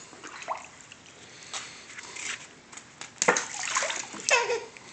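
Water splashing and sloshing in irregular bursts, with a few louder splashes near the end, fairly close by and with no clear talk.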